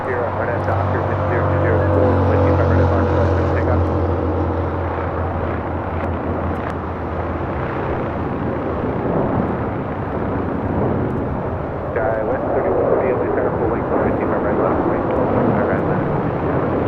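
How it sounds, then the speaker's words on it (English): United Airlines 737-900ER taking off at LAX bound for Denver, a powerful jet roar with droning engine tones early on, sustained and near, shifting in texture later as the aircraft climbs away. "This is United Airlines 1029 taking off to Denver, Colorado"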